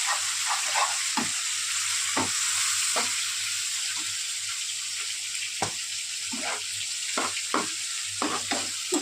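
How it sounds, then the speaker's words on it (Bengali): Spice paste for lote fish curry sizzles loudly and continuously in a pan with a splash of water, with a spoon striking and scraping the pan in irregular bursts throughout. "এবার একটু কষিয়ে নেব"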